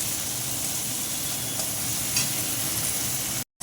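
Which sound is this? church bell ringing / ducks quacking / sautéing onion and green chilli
sautéing onion and green chilli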